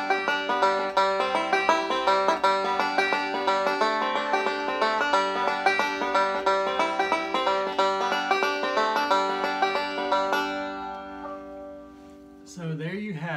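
Scruggs-style banjo rolls pick out Boil Them Cabbage Down in fast, bright, rolling notes over a steady drone, close and loud. After a short pause, a brief voice or swooping sound follows at the end.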